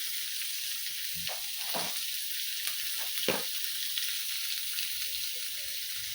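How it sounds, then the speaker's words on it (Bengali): Vegetables for a vegetable soup sizzle softly in a pan while being lightly fried with a little salt, a steady hiss broken by a few brief stirring scrapes, no voices. "এগুলো দিয়ে আমি সুন্দর করে একটু নেড়ে চেড়ে হালকা করে একটু ভেজে নিব।"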